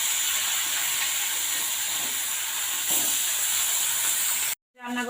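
Fish turned to fry its second side in hot oil give a continuous loud hiss and sizzle close by, cutting out abruptly just before the end.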